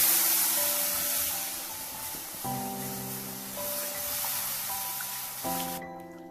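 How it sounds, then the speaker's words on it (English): A frying mixture sizzles steadily over a very low flame while making a capsicum and potato bake, a continuous close hiss with some low steady tones underneath, ending abruptly near the close. "We've got to just fry this for a few seconds on a very low flame."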